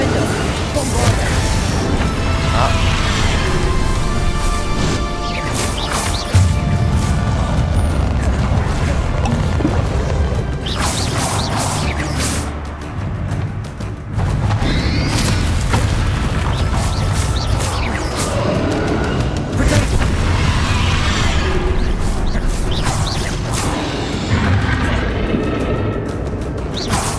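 Confringo and Bombarda spell blasts go off in Hogwarts Legacy, a dense, loud run of booming explosions, crashes and impacts layered over game music, with a person talking throughout.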